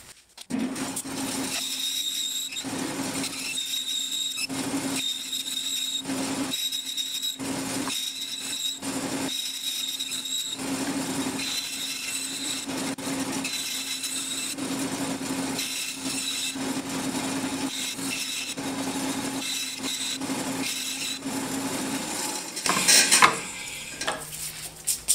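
A saw cuts through a cast Banksia pod slab into pen blanks, a loud, steady whine broken by repeated pauses between passes, ending in a sharp burst of noise.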